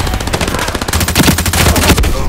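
An MG3 machine gun fires in a video game in long sustained bursts of rapid automatic shots, loud and dense, with no pauses across the stretch.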